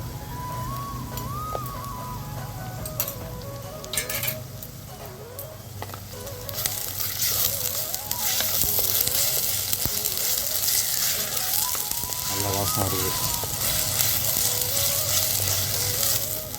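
Ginger garlic paste sautés with onions and green chillies in a pan, a continuous close sizzle that swells louder partway through, with a faint melodic tone running underneath.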